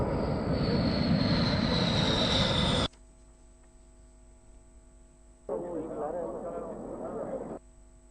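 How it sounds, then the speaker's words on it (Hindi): Military jets in an air exercise with Rafale, Mirage 2000 and Sukhoi fighters plus an Airbus A330 tanker: a loud roaring engine rush cuts off abruptly, followed later by a second, quieter stretch of engine noise. "इन युद्धाभ्यास में 4 राफेल रे साथ है multi role tanker, Airbus A330, Miraj 2000, Sukhoi समेत दूजा विमान भी हिस्सों लीना।"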